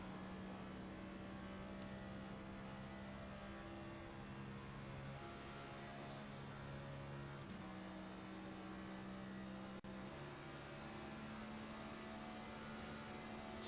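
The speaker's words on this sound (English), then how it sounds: "Listen to the engine note here." Race car engine at Talladega Superspeedway, an MTC car in the Alpha-1 Foundation 600, holding a loud, steady droning note with a brief dip near the middle, no talking.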